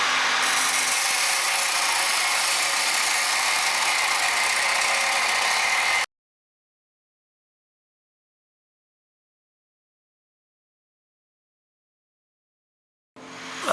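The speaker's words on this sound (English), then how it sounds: "I started the build by cutting some 60 by 100 mild steel with an angle grinder." An angle grinder cuts through a thick 60 by 100 mild steel bar with a loud, steady, harsh grinding for about six seconds. It stops abruptly into silence, and a brief burst returns at the very end.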